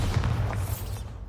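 Bombarda blasting spell explosion in Hogwarts Legacy, a short, heavy low boom that rumbles for about a second, then trails off, loud and close.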